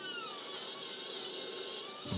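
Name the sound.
Dremel rotary tool cutting bolts off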